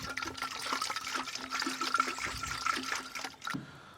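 Water pours steadily into a container to dissolve fertilizer for spraying potted adenium plants, a close, continuous splashing rush lasting several seconds before cutting off abruptly.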